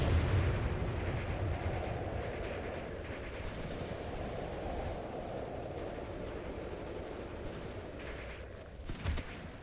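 Artillery fire in Graviteam Tactics: Mius Front, set in the 1943 Third Battle of Kharkov, heard as a steady low rumble of distant barrage. A sharper thump comes near the end, and no one speaks.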